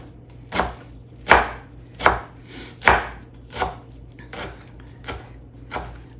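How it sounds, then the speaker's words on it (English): A knife chops through a tightly wadded bunch of kale on a cutting board, about eight firm, evenly spaced crunching strokes, close and clear with no talking. "I like to wad my kale up as tight as I can get it, and then just kind of, go in with a knife"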